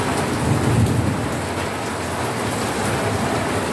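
Heavy rain from Typhoon Carina pours down steadily in a dense, loud roar, with low rumbles running through it and no voices.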